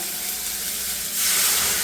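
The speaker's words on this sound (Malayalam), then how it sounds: "ചമ്മന്തിക്ക് കടുക് വറുത്തിട്ട് നമുക്ക് നമ്മുടെ ചമ്മന്തി അങ്ങോട്ട് ഒഴിച്ചു കൊടുത്തേക്കാവേ" Hot mustard seed tempering is poured into coconut chutney, giving a soft hissing sizzle that swells suddenly louder and brighter partway through and then holds, close by and with no talking.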